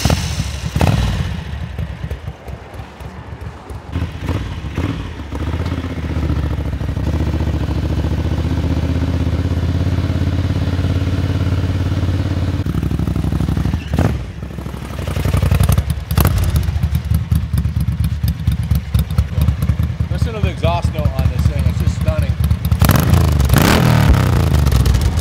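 A 1980 Ducati 900 Darmah SD motorcycle engine running loud and close, with a rumbling idle, some revving, clatter and thumps as it is moved.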